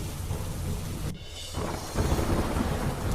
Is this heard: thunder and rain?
yes